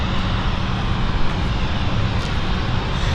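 Steady broadband roar of a BA CityFlyer Embraer 190 SR jet, a 2012 airframe, at London City Airport, holding constant and fairly loud for the whole stretch with no voices.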